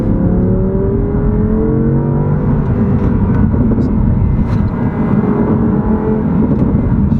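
An Audi R8 V10 RWS engine pulls hard as the car is driven through corners, its loud, sustained roar droning close and steady throughout.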